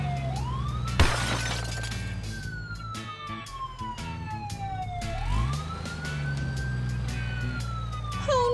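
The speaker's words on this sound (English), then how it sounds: "First Oliver, and now an ambulance." An ambulance siren wails up and down in long slow sweeps, loud and close, with a sharp crash of shattering near the start.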